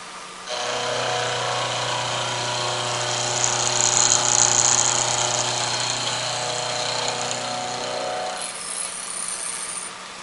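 A milling cutter cuts a flat for a square on a shaft end during direct indexing, giving a steady whining machine tone that runs for about eight seconds and then stops, with a faint high whine lingering.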